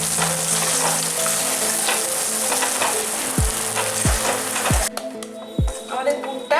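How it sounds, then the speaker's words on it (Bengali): Hing kachori filling sizzles and fries in a pan while it is stirred, giving steady close-up crackling. Several dull knocks of the utensil against the pan come near the end. "এবার এই পুরটা আমরা ভালো করে নাড়ব"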